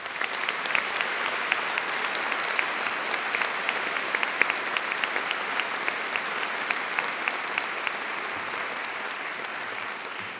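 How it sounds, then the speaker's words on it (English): A graduation ceremony audience gives a sustained round of applause for Conservatoire musicians, steady dense clapping throughout with no voices on top. "Please join me in giving them a warm round of applause"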